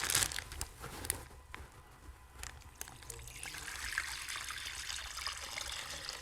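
Pork belly marinade mixed with warm water inside a bag, a close, continuous sloshing and crinkling of liquid and plastic with a few sharper rustles.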